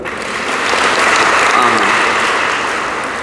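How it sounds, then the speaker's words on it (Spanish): A congregation at Easter Sunday Mass claps together in a church, a loud, dense burst that swells and eases over a few seconds rather than separate counted claps, with no voices over it. "cuando yo levante la mano así, damos 5 aplausos"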